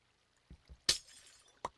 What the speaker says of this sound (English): Break this glass.